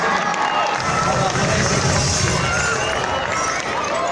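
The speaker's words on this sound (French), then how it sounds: "On peut l'applaudir." An audience at a kids' basketball game show event in Mulhouse applauds and cheers, with loud, dense crowd clapping and hubbub continuing for a few seconds.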